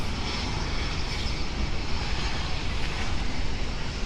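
A fixed-wing aircraft rolls down the runway at London City Airport, its engines a loud, continuous broadband roar that holds steady throughout with no talk.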